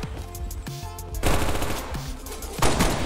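Akimbo pistols fire in Black Ops 3 gameplay as rapid bursts of sharp, close gunshots, two dense volleys separated by a brief pause, loud and punchy with no talking over them.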